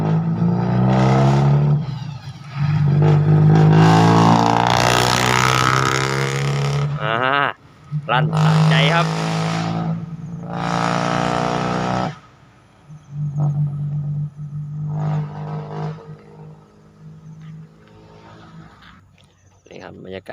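A car pulls out with loud, close engine revving that surges and drops in several bursts. Someone talks over it.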